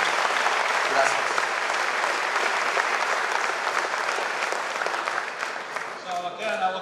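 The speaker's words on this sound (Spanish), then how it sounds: "Un aplauso fuerte para Garrett, por favor." Sustained audience applause at a Spanish-language seminar, a dense wash of clapping that fades slightly toward the end, with a voice coming in briefly at the close.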